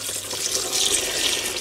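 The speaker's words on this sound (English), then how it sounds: "I'm going to add water to this clay in the pail here" Water pours steadily from a tap into a pail holding clay dug from beneath a fallen birch, a continuous close, hissing, splashing flow with no voices.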